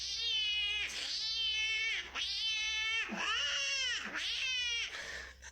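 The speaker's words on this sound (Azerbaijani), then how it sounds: "Aha, miyavlayan qaqaş." A cat meows in a run of five drawn-out, wavering cries, loud and close, each rising and falling in pitch with only short gaps between them.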